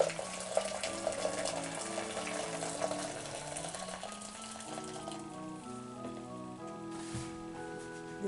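Hot water runs from a tap while fabric is being dyed, a steady splashing stream at moderate volume with faint music playing in the background.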